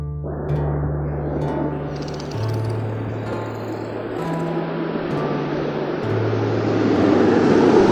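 An airplane flies past as a film sound effect, a steady broad roar that swells and grows louder toward the end, with a low stepped hum running beneath it and no voices.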